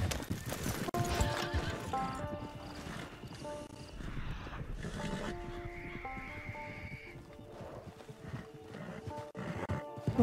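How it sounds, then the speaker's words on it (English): A horse in the Red Dead Online video game whinnies loudly and repeatedly while hooves clip-clop, set against dense game ambience and other animal calls throughout. "Tem um cavalo ali, ó."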